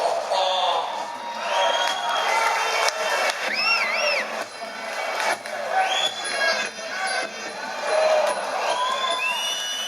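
A crowd roars continuously at an Israel Adesanya boxing fight, a dense sustained roar of cheering laced with shrill whistles and whoops, swelling and dipping throughout.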